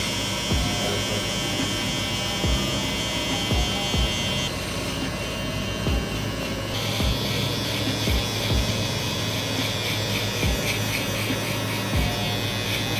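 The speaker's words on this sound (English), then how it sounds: "I'm gonna go in with my shaver, my Babyliss FX1 shaver." A Babyliss FX1 electric shaver buzzes steadily and close up while removing bulk hair during a men's buzz cut, a continuous droning hum with small rhythmic dips as it passes over the head.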